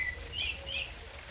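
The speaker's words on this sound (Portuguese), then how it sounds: "Aqui tem som de pássaros" Outdoor birdsong, including thrushes, with two or three short high chirps over a faint steady background hum, moderately distant and alone without talk.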